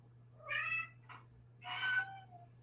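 A house cat waiting to be let in gives two drawn-out meows with a short chirp between them. The calls are fairly close and clear against a low electrical hum, with no talking.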